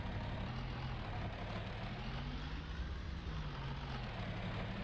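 An old tractor engine in a farming video game labors steadily while driving downhill, a low, even rumble with a faint wavering drone and no talking.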